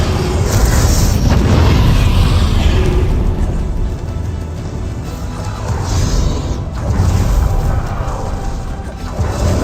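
Repeated fiery spell blasts from the Confringo curse in Hogwarts Legacy during a boss battle, loud continuous booming and crashing with rolling swells that barely let up.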